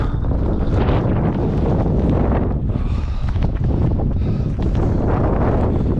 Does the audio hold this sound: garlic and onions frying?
no